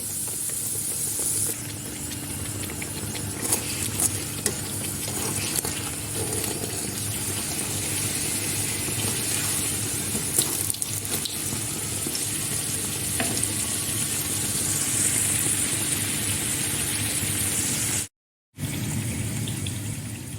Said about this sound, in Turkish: şimdi kızartmaya başladım